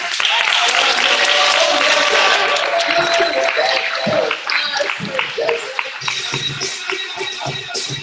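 An audience in a fitness club wellness workshop claps loudly and steadily for several seconds. The applause then thins into scattered claps, shuffling and some talk.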